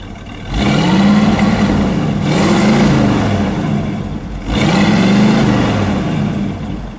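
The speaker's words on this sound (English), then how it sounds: "Go ahead, give it a rev." The engine of a black 1958 Chevrolet Impala two-door hardtop revs up loudly three times, each rise swelling then easing back toward idle, close and dominant with no talk.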